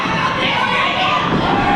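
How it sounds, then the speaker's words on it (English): A steady roar from an enthusiastic wrestling crowd shouting and cheering for Miranda Gordy, dense and continuous throughout with no clear single voices. "a very enthusiastic crowd, shouting along, cheering along Miranda Gordy"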